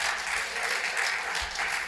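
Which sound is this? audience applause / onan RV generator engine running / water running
audience applause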